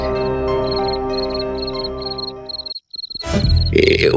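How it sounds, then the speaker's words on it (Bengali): Crickets chirp in a forest at night, with rhythmic high pulsed trills over a low croaking drone; the sound cuts off abruptly, then a loud noisy burst follows. "আর কত ঝিঝি পোকা ডাকছে।"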